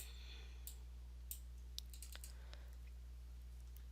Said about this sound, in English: And then I can use my roller on my mouse and click it down twice.